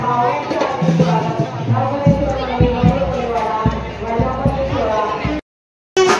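A packed crowd murmurs and calls out at the Navghareshwar Ganesh temple anniversary celebration. The dense, continuous babble breaks off in a brief silent gap just before the end.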